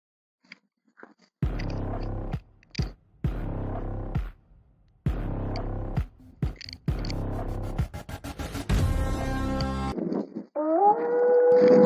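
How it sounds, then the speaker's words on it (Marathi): Several drawn-out howls rise and fall in bursts separated by short pauses, with a higher, thinner wail joining near the end. "कुत्री ओरडायला लागले"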